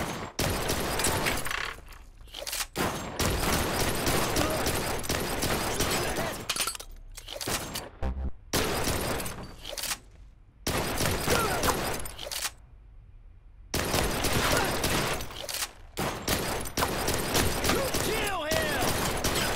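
Gunfire in Blue Estate on PS4, dense loud bursts of shots and impacts broken by short quiet gaps, with a voice talking over parts of it.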